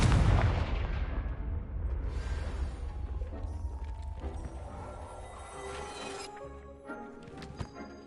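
A Confringo blasting curse is cast in the Hogwarts Legacy video game. It opens with a loud burst that swells into a rumbling boom, then decays into a fading crackle and scattered debris-like clatter.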